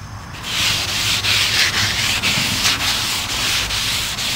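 Sandpaper rubs back and forth over the wooden gunwale of an old Old Town canoe to remove shallow scratches, loud close rhythmic rasping strokes in steady succession with no talk.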